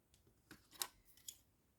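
A few quiet, crisp snips of worn scissors cutting lace, close up, spaced irregularly in near silence.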